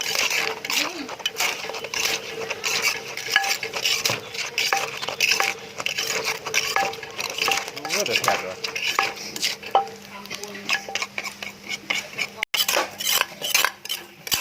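Papaya salad with pork rinds is pounded in a mortar at a food stall. Steady, rapid knocks and clattering scrapes run throughout, loud and close, with occasional voices in the background.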